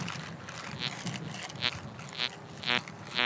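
An XP ORX metal detector gives short, low-pitched buzzy tones for an iron target, four brief repeated beeps spaced about half a second apart over quiet ground rustle.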